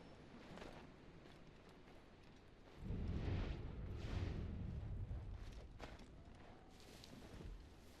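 A sabotaged cannon exploding in Assassin's Creed III, a deep rumbling blast erupting partway through and rolling on for a couple of seconds before fading into quieter clatter and thuds.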